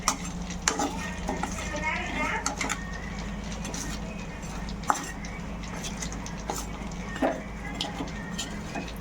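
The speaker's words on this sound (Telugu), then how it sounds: "ఇప్పుడు కింద కూడా మనం అలా రెడ్ కలర్ వచ్చేదాకా ఫ్రై చేసుకోవాలి" Fish pieces fry in a pan, turned until red, with a crackling sizzle and sharp utensil clicks while pigeons coo nearby throughout.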